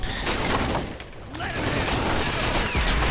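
A grenade explodes amid battle in the WWII strategy game Men of War: Assault Squad 2, a loud burst with crackling debris over dense gunfire, while a commentator talks over the action.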